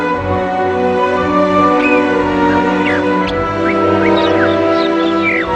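Several short chirps and sliding bird notes come through over a steady layered hum, scattered irregularly across the clip at moderate loudness.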